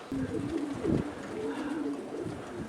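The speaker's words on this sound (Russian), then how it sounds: "Вот голубяточка." A pigeon coos in soft, low, repeated phrases close by on a strong windy day, with a faint breezy rustle underneath.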